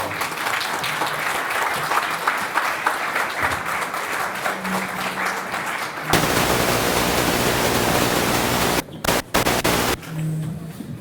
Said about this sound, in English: could we get a round of applause for them?